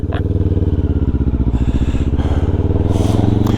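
Suzuki GSX 1400 motorcycle engine idling in gear, a loud close, steady low-pitched pulsing throb with rhythmic mechanical clatter and no speech.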